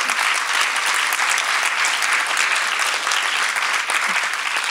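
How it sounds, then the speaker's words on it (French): Sustained applause from an audience at a student achievement gala fills the room, steady and dense throughout with no voices over it. "Vous pouvez vous applaudir."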